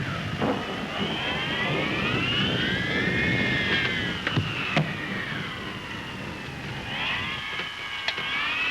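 Airplane engines drone steadily in flight at about 7,000 feet in an early-1930s aircraft, a continuous wavering hum with slowly rising and falling tones and a few faint clicks, with no voices.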